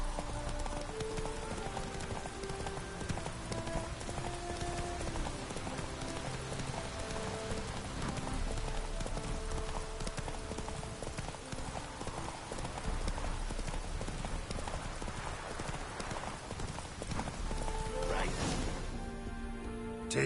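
Roach the horse gallops in The Witcher 3 with rapid, continuous hoof clip-clops at a steady rhythm, close and clear, against an ambient game background.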